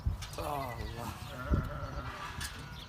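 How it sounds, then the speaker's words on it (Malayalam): A flock of sheep in a pen bleats in wavering calls, one prominent nearby bleat followed by softer ones, with people talking over the animals. "ഇതാണ് നമ്മളെ ഹോസ്ബ, അതായത് ചെമ്മരിയാടുകളുടെ കൂട്ടം"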